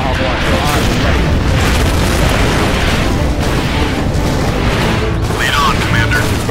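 Loud, continuous rumbling booms and bursts of missile launches and explosions from the Tomahawk launcher in Command & Conquer Generals Zero Hour, dense battle noise throughout with scattered higher whooshes and no pauses.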